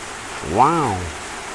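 Steady rain from a storm hisses evenly throughout, with a voice briefly exclaiming over it midway.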